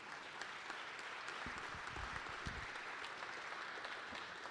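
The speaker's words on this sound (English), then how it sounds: "I hope you'll join me in a round of applause for Senator Reid and thank for his leadership" Audience applause at a welcome event, a steady wash of clapping from a crowd that holds at an even level throughout, with no voices over it.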